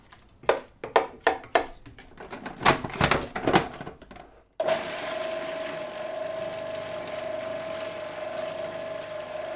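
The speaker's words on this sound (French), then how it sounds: "on peut laisser mixer plus ou moins longtemps en fonction de notre envie" A blender purees a mushroom spread, first in several short rhythmic pulses and then running steadily with a sustained whirring hum, close and fairly loud.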